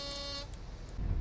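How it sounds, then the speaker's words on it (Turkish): A truck horn sounds in Euro Truck Simulator 2: a short, faint, steady horn tone that cuts off after a moment, leaving low rumbling game noise. "Şöyle bir korna basayım da delirsin."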